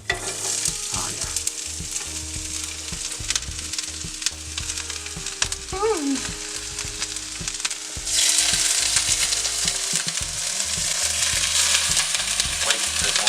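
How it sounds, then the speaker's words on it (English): Tofu browning in a pan for a vegan stir fry crackles with a dense, continuous sizzle, joined by scraping stirs and clatter, then swells louder about two thirds of the way through. "this one I'm gonna throw in my tofu first, get that browned"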